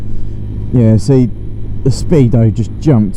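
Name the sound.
Sinnis Blade X motorcycle accelerating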